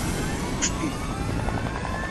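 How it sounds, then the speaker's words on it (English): A helicopter in Fortnite drones with a steady low rotor rumble and a faint high whine, continuous and fairly close, with a brief higher tone briefly standing out. "Oh, helicopter."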